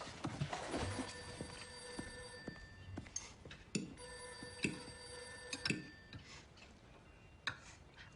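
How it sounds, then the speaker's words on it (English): A phone rings in bursts with a bright trilling tone, two or three distinct rings spaced a few seconds apart, fairly close and clear with no talk over it. "That's my phone."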